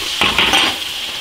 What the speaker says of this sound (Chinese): 把调料炒香，炒入味。